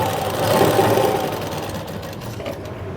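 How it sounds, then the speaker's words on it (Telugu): Sewing machine running steadily while top stitching a blouse seam, a continuous mechanical whir with a fast needle rhythm, close and fairly loud throughout, no voices. "ఇలాగా టాప్ స్టిచ్ చేసేయండి."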